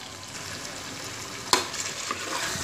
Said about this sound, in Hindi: गोश्त को भी अच्छी तरह मिक्स करके पकाना।